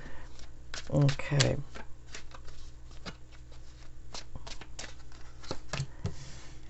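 Slippery tarot cards being shuffled up close, a cluster of quick riffling clicks and slaps early on followed by scattered softer card taps, with a brief spoken word in the clip.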